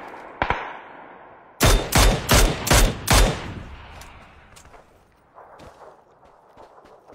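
Video game gunfire: a single shot, then a rapid string of five loud, sharp shots close by. Fainter scattered shots and rustling follow as the action quiets down.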